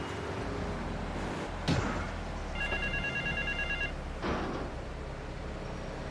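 A telephone rings in a GTA video game, a steady electronic trill lasting about a second amid constant game background noise, with no talking.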